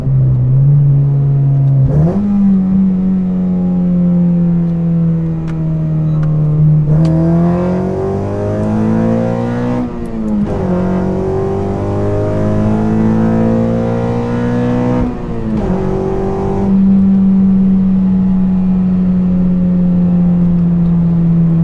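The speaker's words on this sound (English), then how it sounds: "The only time you really hear it is when you put your foot to the floor and you rev it out." A 9th-generation Honda Civic fitted with a carbon fiber intake revs hard several times, its engine note climbing and dropping through loud, aggressive, growling sweeps between steadier idle stretches.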